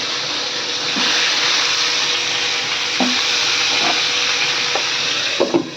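A fish head fries in hot oil with a loud, steady sizzle and hiss, broken by occasional pops and spatters and light scraping of a spatula or spoon in the pan.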